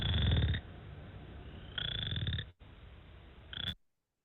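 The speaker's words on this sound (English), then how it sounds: "And then we have the chorus frog, the ones that I mentioned earlier that you hear calling from the roadside ditches." Chorus frogs calling, likely from a roadside ditch: three loud rasping trills in separate bursts with short quiet gaps between them, close and clear.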